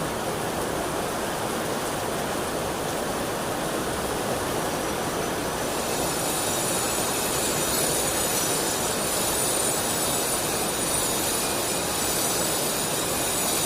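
Hard rain from the season's first May storm falls in a constant close roar, with a thin high ringing tone emerging over the latter half; nobody speaks.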